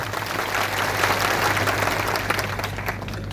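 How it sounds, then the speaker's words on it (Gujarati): A crowd at an outdoor political rally claps, a dense continuous wash of applause holding steady and then tapering slightly near the end, with a low steady hum beneath. "એકવાર જોરદાર તાળીઓ પાડીએ"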